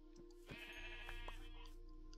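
A Minecraft sheep bleats in a couple of wavering calls, moderately close but not loud, over a steady low game hum with no talking.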